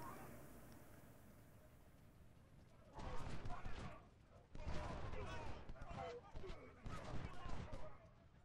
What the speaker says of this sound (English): Just sit back, spot the enemy, and just fire artillery.